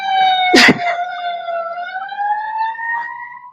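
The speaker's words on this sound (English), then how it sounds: "Tony, you done set up the alarm" A loud siren sound effect is played during a live-streamed talk show, a steady, slowly wavering electronic wail with a sharp burst of noise near the start, close and dominant, with no speech over it.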